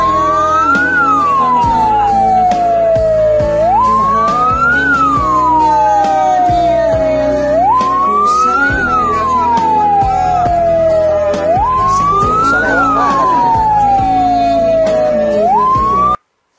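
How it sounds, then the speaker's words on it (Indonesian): A loud fire engine siren wails in repeating rising-and-falling sweeps, each cycle lasting about four seconds, over a steady droning background for the whole stretch. "kalau Danwir udah nyalain sirine pasti kan ada emergency"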